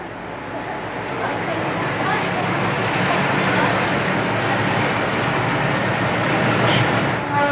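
A train runs along the railway to Machu Picchu near the Puente Ruinas station, its steady loud rumble and rail clatter continuing throughout.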